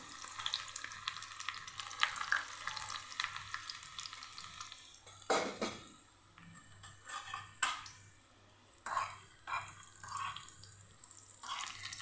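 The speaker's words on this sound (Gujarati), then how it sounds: "અહીંયા આપણું તેલ સરસ ગરમ થઈ ગયું છે તો આપણી લસણની કળીઓને ઉમેરી દઈશું" Garlic cloves hit hot oil and sizzle briskly in a close, crackling hiss, fading and swelling with stirring clatter and scraping.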